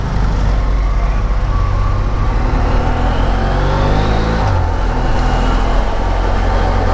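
Motorcycle riding against the flow of traffic past a long queue of vehicles, with a steady loud engine drone and road rumble throughout, traffic noise around it and a shift in engine pitch midway.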